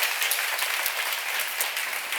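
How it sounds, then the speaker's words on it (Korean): A church congregation at a seminar clapping hard together, a bright, dense and continuous burst of many hands that holds steady for a couple of seconds. "박수 세게 쳐요"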